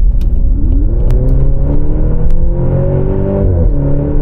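A Maserati Grecale with a 2.0-liter 300 hp engine accelerates at full throttle, a loud, steady engine roar climbing in pitch through the revs, then dropping briefly at a gear change before pulling again.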